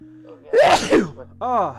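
A single sharp sneeze bursts out between brief spoken exclamations, close and fairly loud.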